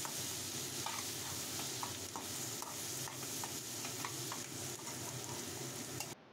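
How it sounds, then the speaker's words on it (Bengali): Spices with ground cumin and grated ginger fry and get stirred in a pan, a continuous close sizzle with repeated scraping strokes in a steady rhythm until it cuts off abruptly at the end. "সমস্তটাকে নেড়ে চেড়ে সব মশলা খুব ভালো করে কষিয়ে নিতে হবে।"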